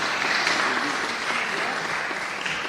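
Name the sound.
audience applause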